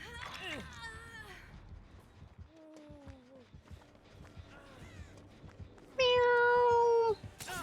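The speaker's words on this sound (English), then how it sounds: "Meow." A cat meows several times with rising and falling cries spread across the stretch, ending in one loud, close, drawn-out meow over faint background noise.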